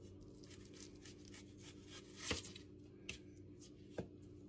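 A knife cutting through a pepper on a board, a few soft quiet cuts with one sharper chop midway and another near the end, alone in a quiet kitchen.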